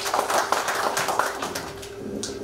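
Scattered clapping from a small audience at a broadcaster's opening ceremony, steady and moderately loud for a couple of seconds with no voices on top.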